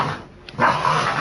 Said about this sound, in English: my puppies are playing in the background